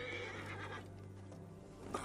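A horse neighs in Assassin's Creed Origins, a faint whinny rising over a steady game ambience with light hoof clatter, heard alone without talking.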